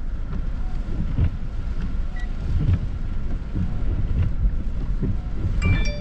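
Wind gusts during a snow squall in Laprairie buffet the microphone in a rough, continuous rumble that swells and eases, with faint higher sounds scattered through.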